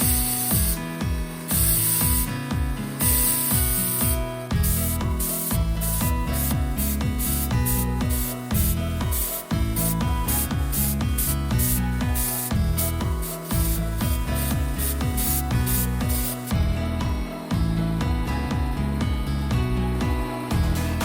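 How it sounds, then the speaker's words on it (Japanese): A belt grinder polishing the spine and choil of a steel kitchen knife made from razor steel, giving repeated hissing, rasping passes in a steady rhythm, loud and close, with music playing underneath. "顎も指をかけた時に痛くないように、細く切ったベルトで角を取りながら形が崩れないように磨いていきます。"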